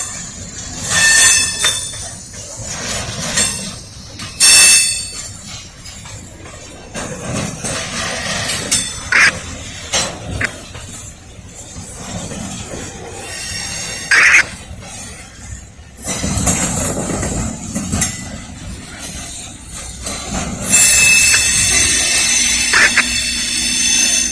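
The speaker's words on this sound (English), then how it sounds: "I think I see the end of the train right here." A Norfolk Southern intermodal freight train rumbles past close by, cars clanking and clattering over the rails, with sharp wheel squeals breaking through now and then.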